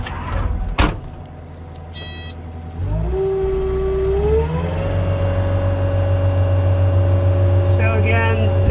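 A 2022 Kubota SSV65 skid steer loader with cab is started up. After a sharp knock and a brief beeping tone, the diesel engine cranks and catches, then settles into a steady, loud idle with a rising whine.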